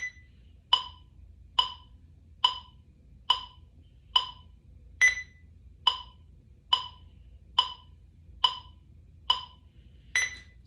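Metronome clicking at quarter note 70, a steady run of a dozen sharp ticks with the first of each measure higher pitched, clear and alone over a faint low hum.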